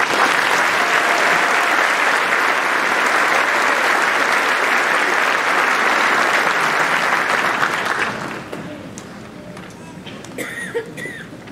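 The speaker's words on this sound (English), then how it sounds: "Please give them a round of applause." Loud, dense applause from a high school graduation crowd at Collinsville High School, sustained for about eight seconds before tapering off into scattered claps and light room noise.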